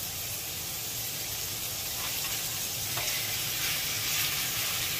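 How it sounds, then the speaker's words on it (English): Large shrimp sizzle and fry in a hot pan with a steady, fairly soft crackling hiss that holds throughout, with no talking. "Next, we're going to add the shrimp."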